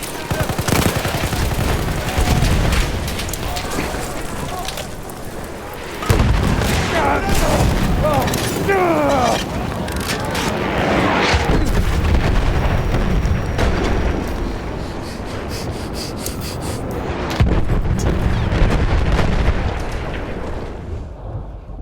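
Battlefield 1 combat at Gallipoli, Cape Helles, with repeated booming grenade blasts amid rattling gunfire and heavy rumble, loud and dense for the whole stretch, with voices shouting in the mix.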